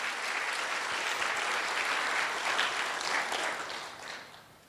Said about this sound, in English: can we give a big round of applause for all the volunteers here today?